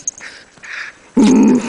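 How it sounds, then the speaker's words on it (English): An excited dog makes soft whimpering and snuffling sounds, then a loud, close growly vocal burst at the end. "This is my dog, Princess"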